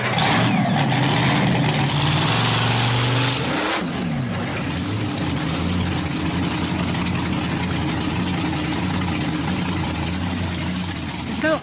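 A car fitted with oversized monster-truck wheels, its heavy engine revving loudly and then dropping to a rough, rumbling idle, with people talking nearby.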